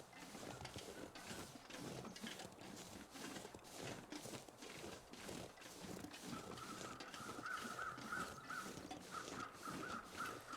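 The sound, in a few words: crows cawing in a video game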